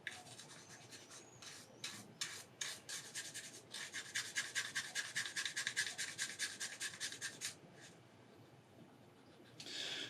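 A cotton swab with alcohol rubbing over a cassette tape, heard as quiet, close, rhythmic scratchy back-and-forth strokes that speed up into a steady run before trailing off.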